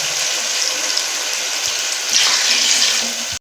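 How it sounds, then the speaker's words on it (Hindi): Water pours steadily from a glass into a cooking pot of sela rice for Kabuli chicken pulao, a close, loud gushing splash lasting a few seconds before stopping abruptly. "तो इसमें हम 3 गिलास भी पानी ऐड करते हैं।"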